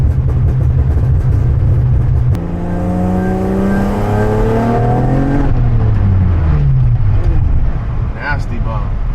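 Tuned Acura TL Type S engine pulling hard under acceleration, with rising harmonic sweeps as it revs through gears, loud and close from inside the car; speech 0.83 suggests talk may be present.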